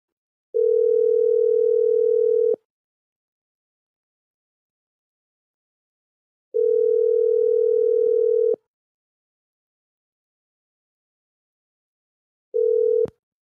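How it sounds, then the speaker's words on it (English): Telephone ringback tone heard while a call-in show dials out to a caller: two long steady tones, each about two seconds, separated by a silent gap, then a third tone cut short as the line is answered; clear and alone. "One more ring, then I hang up the phone."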